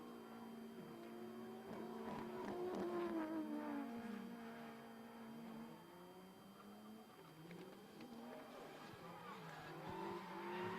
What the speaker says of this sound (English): The RB26 powered Skyline of Vincent Hopkins trying to hunt him down.